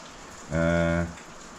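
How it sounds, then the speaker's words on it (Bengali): Rain falls steadily outside a homestay in Rishop, a soft, even hiss running throughout while a person briefly speaks over it. "কারণ বৃষ্টি পড়ছে, বাইরে যাওয়া সম্ভব নয়"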